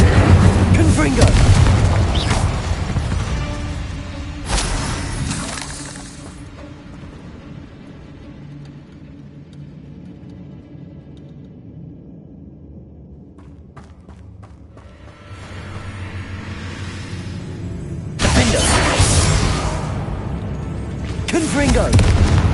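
Confringo spell explosions in the Hogwarts Legacy video game, heavy booming blasts at the start and end, loud and close, with a quieter rumbling stretch between, set under game music and a voice.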